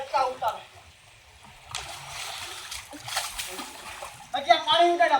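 Water is splashed and sloshed in bursts, with a big splash near the end, while children's voices chatter and call out around it.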